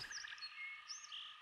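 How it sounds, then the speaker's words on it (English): Frogs croak and chirp near water at dusk, a faint, steady chorus of overlapping high calls with no voices. "frogs"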